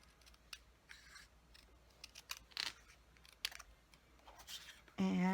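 Card paper being trimmed with scissors or a paper trimmer for a handmade masculine birthday card, a few quiet snips and slides spaced out over faint room noise, ending in a louder burst.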